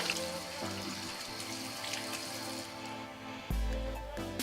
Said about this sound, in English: Lukewarm water is the best. And I don't rub my face either, just wash off the salicylic acid.